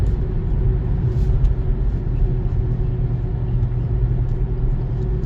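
A white 2018 BMW X1 drives along at normal speed in comfort mode, its steady low engine hum and road rumble filling the cabin continuously with no talk.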